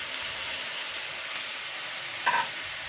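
Fish roe, first soaked in hot water, tipped into a pan with Maggi masala and stirred, giving a steady close sizzle and fry hiss with a brief clatter of the spoon near the end.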